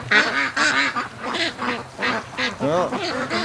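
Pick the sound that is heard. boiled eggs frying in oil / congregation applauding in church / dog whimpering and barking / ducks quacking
ducks quacking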